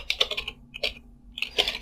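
Bursts of typing on a computer keyboard while entering a command in a network scanning session, quick clusters of key clicks separated by a short pause, close and fairly quiet with no talking.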